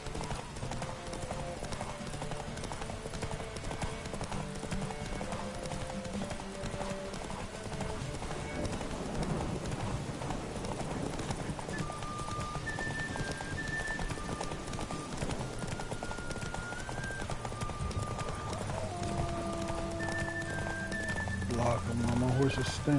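Horse hooves galloping in the video game The Witcher during a race, a continuous rhythmic clip-clop under game music and effects, with someone talking over it throughout.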